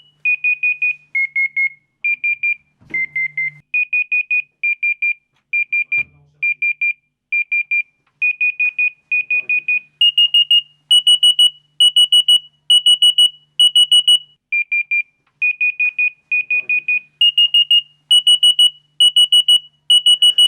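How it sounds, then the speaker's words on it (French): Arva Neo 2 avalanche transceiver emitting loud, steady electronic beeps in rapid groups, the tone pattern shifting and becoming more insistent partway through as it closes in, with no talk over it. "Le volume des bips augmente au fur et à mesure que les chiffres diminuent."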